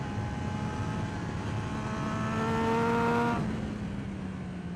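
A Triumph motorcycle engine drones loudly and steadily on a racetrack, its pitch climbing slightly then dropping off as it passes or shifts up through the gears, close by with no talking.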